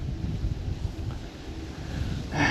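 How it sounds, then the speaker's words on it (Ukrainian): Steady wind gusting and rumbling across the microphone, rising briefly louder near the end, with no voices. "це вітер дує"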